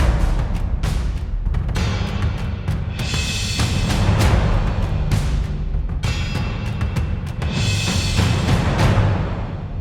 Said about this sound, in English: Lots of timpanis, cymbals, lots of damage.